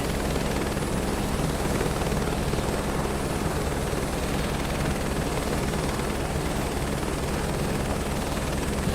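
Helicopter hovering in Microsoft Flight Simulator 2024: a steady, loud rotor and turbine drone with constant low thudding and a high whine, unchanging throughout, no talk.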